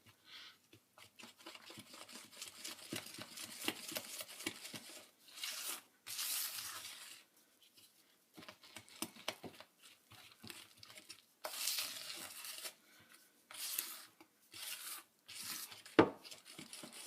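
Tres leches cake batter for a Don Quixote cake is stirred by hand, giving faint wet scraping and rubbing strokes in uneven bursts with short pauses, quiet and close.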